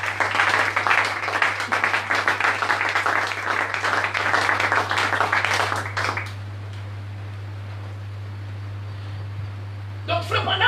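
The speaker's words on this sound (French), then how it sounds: "On acclame d'abord le Seigneur." A church congregation applauds the Lord with dense, continuous clapping for about six seconds before it fades to a quiet hum, then a brief burst of noise returns near the end.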